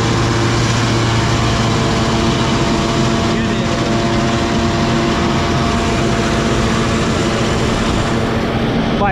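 A Massey Ferguson 8055 Dynatrac tractor with a fitted turbocharger runs steadily nearby, a continuous low engine drone with a faint whine on top, alongside people talking.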